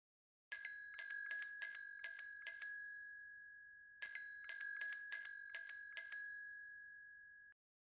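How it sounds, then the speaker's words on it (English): A bicycle bell rings out clearly in two rapid series of six bright metallic dings, each series left to ring and fade, with silence between them and all around. "First, let's listen to the sound of a bicycle bell on Earth."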